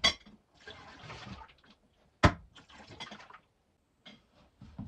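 Wastewater drains out of a small, quiet off-grid home, giving a watery gush and splash with a sharp clang-like burst partway through. Several bursts of flowing liquid come and go over a few seconds.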